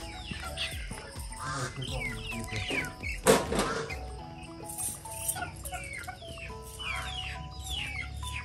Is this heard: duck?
yes